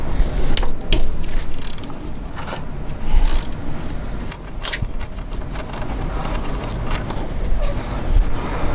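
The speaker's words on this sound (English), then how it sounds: "we're gonna use a size 19 or 3/4 socket to take the bolt out" Oil drain bolt being loosened with a 19 mm socket during an oil change on a Thermo King Tripac Evolution APU, a run of close metallic clicks, clinks and rattles over low rumbling background noise.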